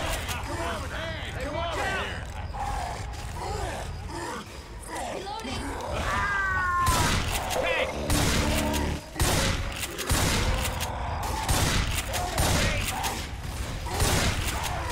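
Left 4 Dead 2 gunfire on the custom map Land of Oblivion crackles in steady rapid volleys through the second half, amid growls and game noise, with people talking over it.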